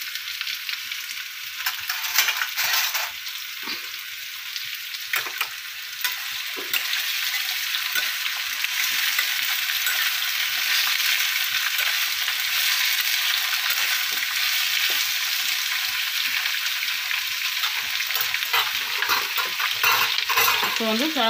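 Potatoes sauté in a hot pan with steady broadband frying sizzle throughout and intermittent scraping stirs, fairly close and continuous with no talk.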